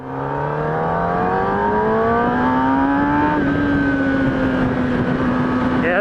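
Kawasaki motorcycle engine revving steadily and loudly throughout, pitch climbing gradually then easing back slightly, a sustained close-up drone with no talk over it.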